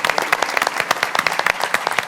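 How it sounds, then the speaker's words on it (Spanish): A conference audience at an agriculture panel applauds the Secretary of Agriculture, with distinct, rapid individual claps standing out in a crisp, fairly sparse rhythm rather than a dense roar. "Un aplauso para Manuel García Olano"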